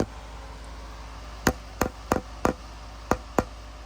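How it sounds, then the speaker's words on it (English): A small hammer taps a snug part of a Schaller roller guitar bridge into its hole, giving six sharp, close knocks in an uneven rhythm over a quiet room hum. "I just took my little handy dandy hammer. I just kind of tapped it on home."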